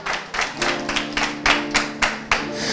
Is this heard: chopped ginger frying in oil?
no